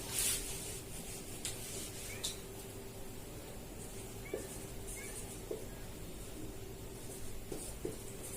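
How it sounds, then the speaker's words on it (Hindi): Writing on a board is rubbed out during a maths lesson: a quiet, continuous dry scrubbing with a few faint taps, and no one speaking. "इसको मैं रब कर देती हूँ, ये वाला पार्ट"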